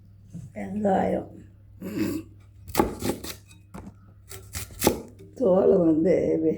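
A knife chops through onion on a cutting board while cooking tomatoes and green chili, giving a few sharp close knocks between stretches of talk.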